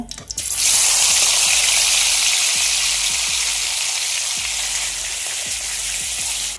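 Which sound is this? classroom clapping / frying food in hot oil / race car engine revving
frying food in hot oil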